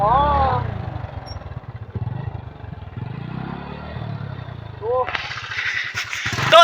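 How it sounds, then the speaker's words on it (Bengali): A motorcycle engine, just started, idles with a low rhythmic thumping throughout, moderately close, while a person talks over it for much of the time. "তো ফাইনেলি ষ্টাৰ্ট কৰি ল'লোঁ বাইক"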